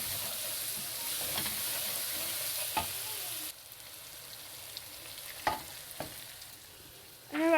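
Spices such as kasuri methi and salt sizzle in hot oil in a frying pan while being stirred for an eggplant and potato dish, a steady fry with a few sharp scraping clicks and a louder clatter at the end, no talking.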